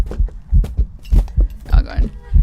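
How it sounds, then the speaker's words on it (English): A loud thumping heartbeat from the ghost-hunting game Phasmophobia, with paired low beats repeating at a steady pace and faint game sounds around them. "Why does the heartbeat seem so loud, though?"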